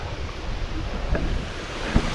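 Wind blows near the water after a storm, a steady broadband rush with rumbling gusts and a couple of low bumps against the microphone, and no voice on top.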